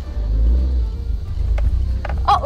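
Deep, steady exhaust rumble from a Nissan S14 Silvia Q's with an SR engine and a lightened flywheel, a loud low drone that swells and eases, with a few brief sharper sounds near the end.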